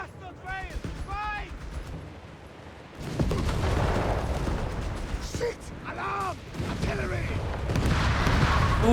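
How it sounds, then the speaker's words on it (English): Grenade blasts and artillery fire from the Company of Heroes 3 strategy game rumble as a low, dense battle din, with explosions building toward the end beneath a commentator speaking. "grenades and assault. Artillery called in here."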